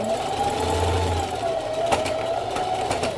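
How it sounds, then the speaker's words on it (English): A sewing machine stitches steadily through several layers of fabric, a close, even motor whine with a rapid mechanical needle chatter and a few small clicks, alone without talk. "I'm just sewing along,"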